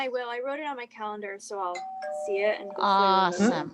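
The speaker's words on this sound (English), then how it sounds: "Somebody's doorbell." A doorbell chimes with a ding-dong tone during a remote group call, ringing out under and between people talking and growing louder toward the end.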